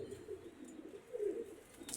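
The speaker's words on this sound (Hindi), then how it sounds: "बड़ा ही अच्छा कबूतर है दोस्तों।" A pigeon gives soft, low, rolling coos near a rooftop, faint against steady background hiss.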